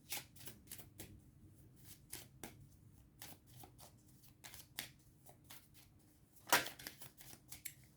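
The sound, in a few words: shuffling and drawing tarot cards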